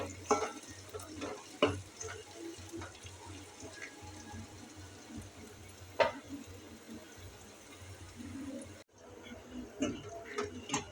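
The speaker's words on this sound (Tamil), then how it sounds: "சின்ன வெங்காயம் நல்லா வதங்கட்டும்." Small onions sauté in a pan for a Tamil narthangai pachadi, with soft sizzling and frying under occasional stirring scrapes and light clinks, fairly faint and close, with a brief quiet gap near the end.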